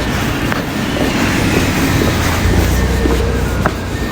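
A train running in Japan, heard from onboard as a steady loud rumble of wheels on rails with faint clicks and a brief squeal, continuous with no talking.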